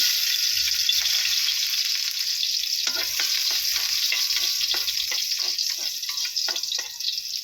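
Garlic frying in preheated oil for a milkfish dish sizzles loudly and steadily, with scraping stir strokes breaking through in the second half.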